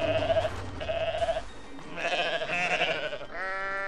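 A goat bleats in the video game Goat Simulator, several drawn-out wavering cries in succession, loud and close over faint game background noise.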